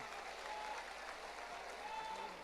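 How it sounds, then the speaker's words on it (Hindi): Audience applause at an outdoor religious gathering on a Dussehra ground in Guna, steady dense clapping from a large crowd throughout, with faint voices underneath. "तालियों की गड़गड़ाहट से इनका हम उत्साहवर्धन करेंगे।"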